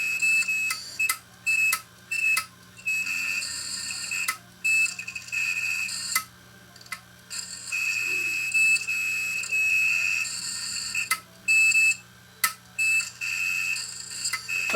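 A failed 1TB hard drive, opened up during a teardown, gives off a looping series of sharp electronic beeps and chirps in short repeating bursts, with quiet gaps between them and no voices.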